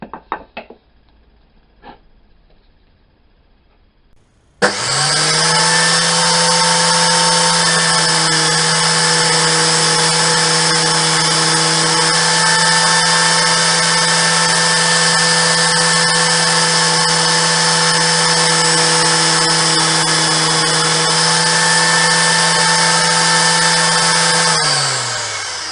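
A table saw runs steadily while a stopped groove is machined into wood, pushed slowly and firmly to a marked line; the loud, constant whine starts abruptly after a few quiet knocks and holds for about twenty seconds before winding down.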